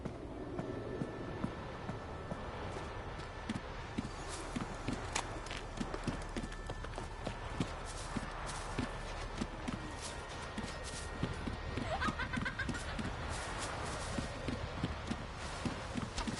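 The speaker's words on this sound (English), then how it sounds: "The horses are ready." Horse hooves clip-clop at a steady walking rhythm in The Witcher 3 video game, a continuous series of close, clear hoof strikes over a low ambient background.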